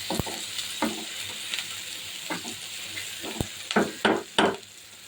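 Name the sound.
frying hilsa fish with onion and chili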